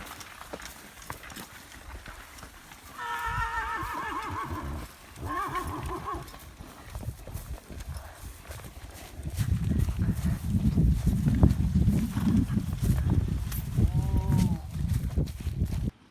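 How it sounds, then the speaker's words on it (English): Team of working horses being driven, hooves clip-clopping steadily nearby, with whinnies and rumbling, rattling noise growing louder in the second half. "This is the Ainsworth pair. Donnie's doing the driving"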